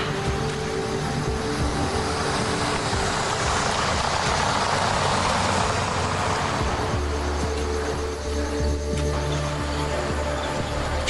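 Vehicle engine running on a forest road in Gir, Gujarat, where lions live, a steady close drone with a low hum that shifts pitch partway through, continuous and fairly loud.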